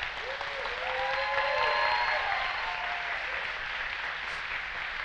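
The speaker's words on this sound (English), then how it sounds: "Now you may clap" Applause from guests at a wedding ceremony, a steady wash of many hands clapping for about five seconds, with a few voices and cheers lifting above it.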